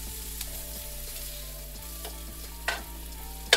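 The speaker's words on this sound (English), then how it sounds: "And get these sauteed." Onions sautéing in avocado and sesame oil in a pan: a quiet steady sizzle with occasional soft stirring scrapes and a couple of louder clacks of a utensil near the end.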